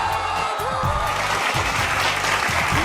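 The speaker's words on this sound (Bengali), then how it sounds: "জোরে হাততালি হবে" An audience at a film trailer launch claps, a dense steady burst of applause with a low murmur of voices underneath.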